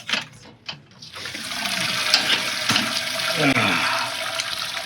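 Sweet wort draining from a lifted mash basket into an Anvil Foundry electric brewing kettle while brewing Belgian Trappist singles, a steady close pouring and splashing of liquid that swells after a brief start, with faint speech underneath.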